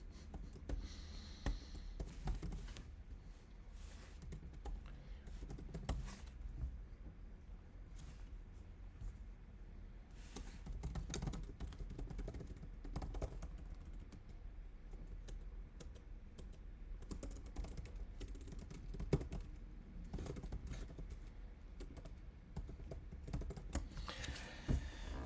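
Typing on a computer keyboard during a live AI coding session, heard as a steady run of soft, close key clicks across the whole stretch with no speech.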